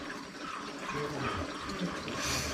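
Root vegetables are washed in water, with continuous splashing and running liquid sounds at moderate volume close by and no voices.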